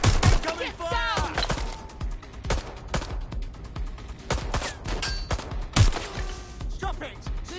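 Gunfire from the video game Watch Dogs: Legion, with sharp repeated shots and bursts scattered through a busy combat mix, loud and close, alongside other game effects and brief voice lines.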